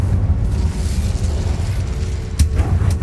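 Incendio fire spell cast in the video game Hogwarts Legacy: a loud, continuous roaring blast of flame with a sharp burst near the end, heavy low rumble throughout.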